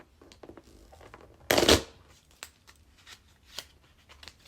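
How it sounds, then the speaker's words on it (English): Monopoly cards riffle-shuffled close up in a quiet ASMR setting, one loud dense burst of flapping card edges lasting about a third of a second, surrounded by soft handling taps and rustles. "3 shuffles."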